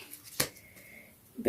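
Pokemon cards from an Umbreon V tin are shuffled by hand, giving a couple of quick, close, crisp riffling snaps with brief quiet between them.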